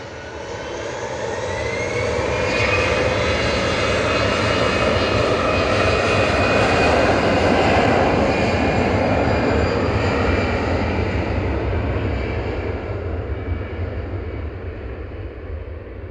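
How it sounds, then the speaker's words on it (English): An EasyJet Airbus A320-200 jet takes off at Manchester Airport bound for Zurich, its engine roar swelling to a loud broad rumble and whine, then slowly fading as it climbs away. "This is EasyJet off to Zurich. Airbus A320-200 GZGY"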